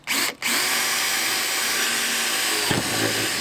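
A power drill bores through the steel body of a Volvo V40, a loud steady whine after a brief stop near the start, close and alone.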